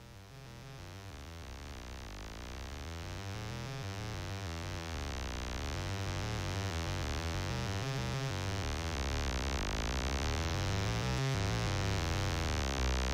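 A Kilpatrick Audio Phenol analog synthesizer plays its first oscillator through a delay, giving a thick, stacked, sustained buzzing tone with shifting harmonics that gradually grows louder and stays steady, with no talking.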